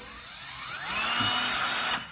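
A DEWALT 20V Max cordless drill/driver whirs up to a high-pitched spin, holds a steady whine at speed, then cuts off abruptly near the end.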